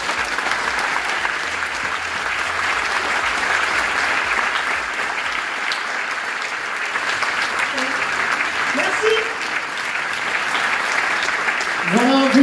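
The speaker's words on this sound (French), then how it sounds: "Et je pense qu'on peut les applaudir." Sustained audience applause at a French hypnosis stage show, a thick, continuous roar of clapping that holds steady throughout, with a few voices surfacing near the end.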